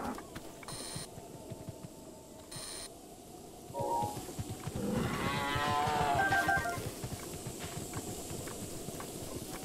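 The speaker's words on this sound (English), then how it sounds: "And a cow up here somehow." A cow moos with a drawn-out, wavering low call in Zelda: Breath of the Wild, set over soft steady game ambience and a few faint chimes.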